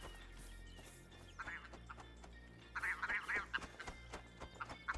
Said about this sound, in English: Oh, a willow ptarmigan.